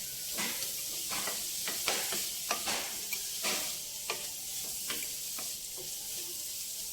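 Capsicum fries in a pan for a semiya pulao, with a steady sizzle and hiss under repeated sharp clicks and scrapes of a spoon stirring against the pan, close up with no talking.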